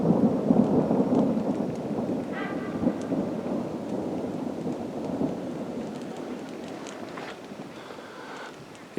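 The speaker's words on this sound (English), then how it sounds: "And no real camping trip is a camping trip unless it rains." Steady rain falls at a mountain campsite in the High Uintas, a dense, close hiss of drops on surfaces with low rumbling beneath, gradually easing slightly and heard with no talking.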